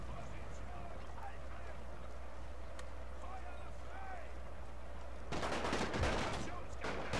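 Game battle audio from Napoleon Total War with the Great War mod, steady rumbling under scattered voices, then a sudden burst of dense crackling gunfire near the end as a firing squad volley erupts.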